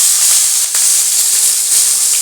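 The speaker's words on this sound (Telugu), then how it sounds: "పచ్చిమిరపకాయ ముక్కలు వేస్తున్నాం" Green chilli pieces hit hot oil in a village-style pan for a cluster bean masala curry, giving a loud, steady, close hiss of sizzling that barely wavers throughout, with no talking.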